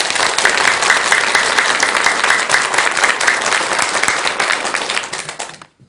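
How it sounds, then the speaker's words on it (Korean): A Buddhist lecture audience gives loud, sustained applause for the country's senior monks, a dense wash of clapping that holds steady for about five seconds and then fades out at the end. "전국의 대덕 큰 스님들께 감사하는 마음으로 큰 박수 한번 주시기 바랍니다."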